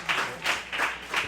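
A church congregation claps in a steady rhythm, four broad claps about every third of a second, without talk.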